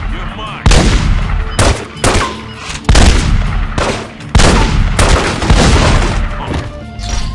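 Heavy gunfire bursts in The Godfather PC game, loud repeated volleys of shots and booms in several clusters with short gaps, close and dense throughout.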